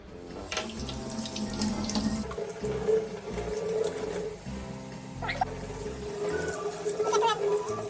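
Tap water runs steadily into a sink while a toddler washes an egg, a continuous splashing flow that carries on throughout with small shifts in tone as hands move under the stream.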